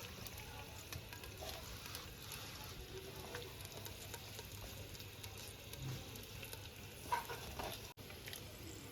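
Chicken pieces frying in a pan for Bengali-style pudina handi chicken, a faint, steady sizzle lasting the whole stretch, with a brief clink of cookware near the end.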